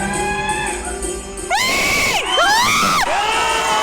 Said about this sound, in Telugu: డ్యాన్స్ అన్నీ ఏమి ఇస్తారు కానీ చాలా బాగా ఎంజాయ్ చేసి అరుస్తున్నారు అందరూ